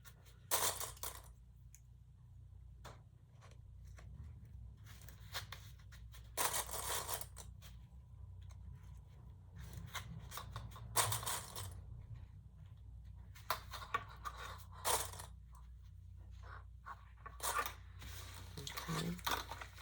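A sewing machine top stitches and bastes the sides of a fabric pouch in several short bursts separated by quiet pauses, faint and close with a low background hum.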